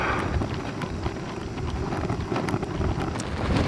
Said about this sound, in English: so as you can see, it's pretty windy